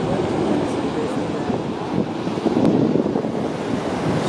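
Niagara Falls from the American side near the water's edge, a loud, continuous rushing roar of falling water mixed with buffeting wind on the microphone, steady throughout with no clear speech.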